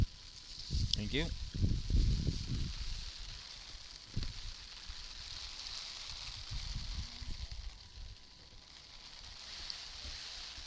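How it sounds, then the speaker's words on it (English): Heavy rain falls on an 18U softball game, a faint steady hiss throughout, with voices and brief knocks and thumps in the first few seconds. "and this rain's coming down good."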